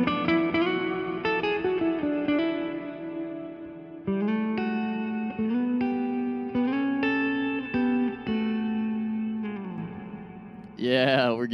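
Sustained electric guitar chords through a Fender Tone Master Pro ring out with a washy reverb tail, steady and fairly loud, ending in a brief rising swell.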